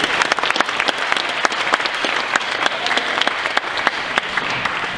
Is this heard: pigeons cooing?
no